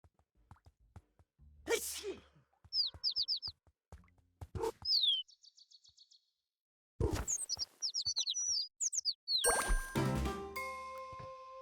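Short, bright bird chirps in Little Kitty, Big City sound in quick clusters among soft plops, tinkling jingles and rustling game effects, with a brief silent gap partway through.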